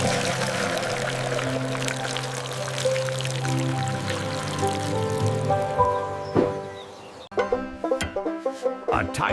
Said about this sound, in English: Now, to water the next generation of growth.